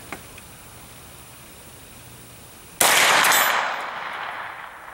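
A single sharp AR 9 rifle shot fires outdoors at a 100-yard range target, a loud crack that rolls into a long echoing decay after a quiet stretch of faint background hiss.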